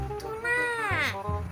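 A kitten meows with a rising and falling harmonic call, close and clear, preceded and followed by brief lower sounds and soft background noise while it plays indoors with a free toy.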